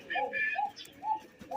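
Domestic pigeons perched in rows give soft, repeated coos, a few short rounded calls close by in a quiet setting.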